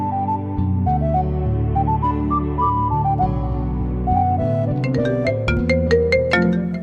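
A mobile phone plays a loud melodic ringtone continuously from start to end, a stepping tune of clear tones that ends in a run of quick bright chiming notes.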